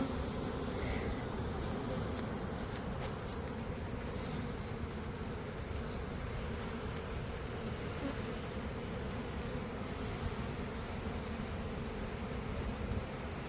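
Swarm of bees on a second story, buzzing as a dense, continuous drone that holds steady throughout, with no talk.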